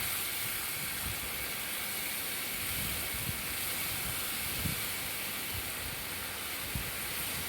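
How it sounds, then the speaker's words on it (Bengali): Soaked spice paste frying in oil over medium heat for Bengali bhog khichuri with gobindo bhog rice, heard as a continuous close hiss and sizzle with faint soft knocks, steady throughout and without speech. "মশলাটা আমি দিয়ে দিলাম এবার মিডিয়াম দমে ভালো করে কষিয়ে নিতে হবে মশলাটা"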